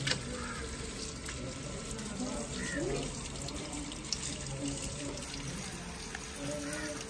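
Tap water runs steadily into a sink while raw chicken is washed, a constant close hiss with faint clinks and handling noises underneath and some quiet talk.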